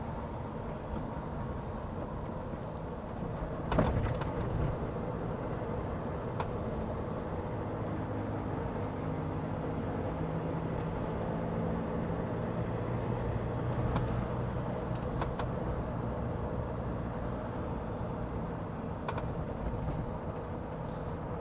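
A 2015 Land Rover Defender 90 2.2 TDCi XS station wagon on a test drive, heard from inside as a steady low diesel drone and road rumble, with a few brief knocks and clunks over the run and no talk.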